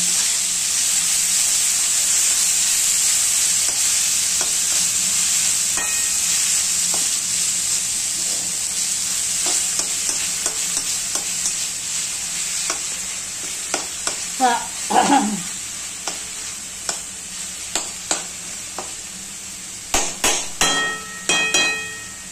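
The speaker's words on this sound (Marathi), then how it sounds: "आता कोबी टाकून घ्यायचा। ते चांगलं अगदी भाजून द्यायचं।" Cabbage sizzles steadily as it fries in a pan, with a continuous hiss throughout and intermittent scraping and clinking from stirring growing more frequent toward the end; no one speaks.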